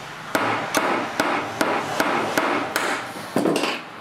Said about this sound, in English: I just carefully knocked in these two dows, which should hold the axe head in place